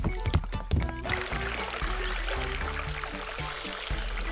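Cartoon spring water pours in a steady, bright stream after a brief busier opening, a continuous close splashing that holds to the end.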